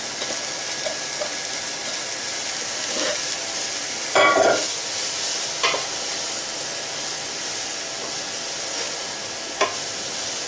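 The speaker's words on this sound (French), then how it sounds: "je vais rajouter les poireaux directement dans le beurre" Leeks sweating in melted butter in a pan, giving a steady soft sizzle throughout with a few louder crackles and stirring clatters partway through, close and without talk.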